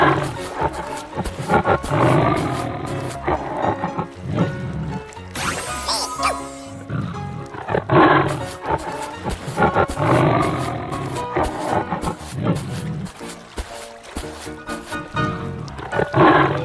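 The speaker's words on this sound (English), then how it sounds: "Tiger." A cartoon tiger gives a loud roar in a children's animal painting game, layered over busy game music and sound effects, with more roars and bursts running through the clip.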